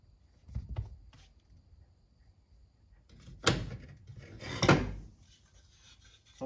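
A car's interior door panel is worked loose, with soft scrapes and knocks followed by two sharp plastic pops as clips release, close by and without speech.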